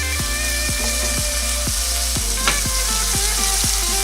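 Chicken livers sear in a hot pan with a steady, dense sizzle and spatter, close and loud, punctuated by regular scraping stirs about every half second, with no talking.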